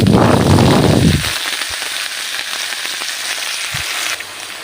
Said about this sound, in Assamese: নৰসিংহ পাতখিনি অলপ ভাজি ল'ম।